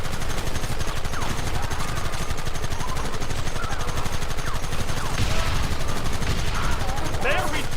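Rapid gunfire from a Red Dead Redemption shootout on PC, dense overlapping shots and bursts running continuously and loudly, with shouted voices mixed in the battle noise.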